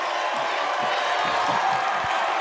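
A high school football crowd on the Viewmont side, Northridge vs. Viewmont, roars in a steady wash of cheering, clapping and whoops from the stands, dense and continuous throughout.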